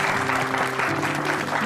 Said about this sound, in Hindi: डॉक्टर स्नेहा के लिए जोरदार तालियां।